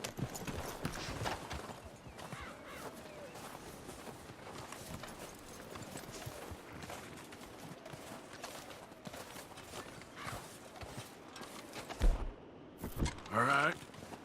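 Horses in the Red Dead Redemption 2 video game walk with steady hoof clip-clops and rustling movement, fairly faint throughout, with a short louder burst near the end.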